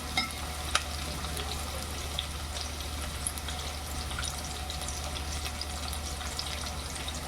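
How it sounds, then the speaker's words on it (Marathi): Chopped onion fries steadily in a pan for a wild greens vegetable dish, a soft, even sizzle with faint crackles throughout, close but fairly quiet and without any talk. "लालसर होऊन द्यायचं कांदा शिकला ना भाजीला चव येते"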